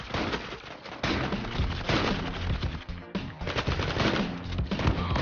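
Dense automatic gunfire in the online shooter Zula, rapid continuous bursts with brief pauses, loud and close throughout.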